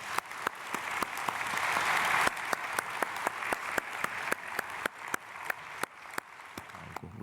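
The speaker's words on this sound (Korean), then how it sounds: "우리 박수로 축복하겠습니다." A church congregation claps during a Sunday worship service, steady crowd applause with sharp individual claps standing out and fading toward the end.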